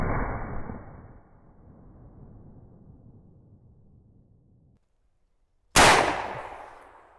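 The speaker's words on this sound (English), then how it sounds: "up first is the 425 grain bullet. We're shooting it on the right side." A 50-110 WCF rifle fires a 425 grain bullet outdoors, giving one sharp, loud crack that rings out and decays after a stretch of quiet and fading background noise.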